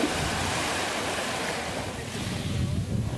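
Waves wash steadily onto a beach shore in a continuous loud roar of surf, with wind buffeting the microphone throughout and no talk.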